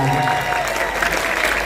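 An audience at a comedy film gala premiere and press conference applauds steadily, a dense clapping wash with a voice talking over it.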